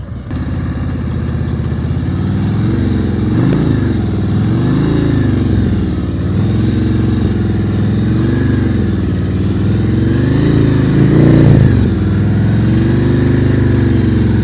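A motorcycle engine at low revs during slow-speed riding skills practice in Georgia, a steady near idle-like rumble with gentle rises and dips in pitch as the throttle is feathered, continuous and loud.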